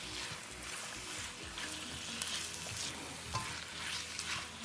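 Shrimp sizzle in a pan while cooking, a steady soft frying hiss with occasional light pops and stirring clinks, fairly quiet, no talk.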